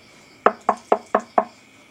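Five sharp knocks on a door, evenly spaced in quick succession, close and clear against a quiet background.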